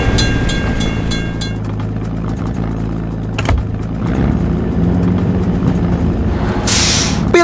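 A video-game train rumbles past a closed level crossing, a loud steady low rolling drone with a warning bell ringing at the start and brief hissing bursts near the end.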